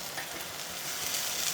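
Ginger, garlic, tomatoes and spices sizzle in a hot pan with a steady, close crackling hiss that grows slightly louder as it goes on, with no talking.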